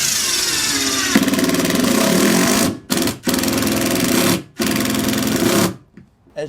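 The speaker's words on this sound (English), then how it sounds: "once you've got the tool started, you've got your screw going in" A Ryobi impact driver drives screws into a floor, a loud rattling hammering whir repeated in several bursts separated by short pauses, close by.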